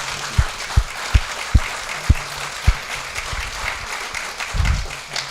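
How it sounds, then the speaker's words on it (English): An audience at a Cupertino town hall on a cement plant and quarry claps, first with sharp, separate claps spaced apart and then a softer smattering of applause, fairly close and without talk. "join me in giving them what I think is a well-deserved round of applause"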